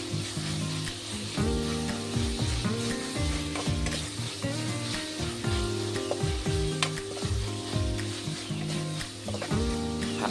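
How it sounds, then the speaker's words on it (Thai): Minced pork stir-fried in a pan with stink beans and shrimp paste, sizzling loudly and continuously. A utensil scrapes and clatters against the pan in quick, repeated strokes, close and with no talk. "นำหมูสับมาผัดรวมครับผม"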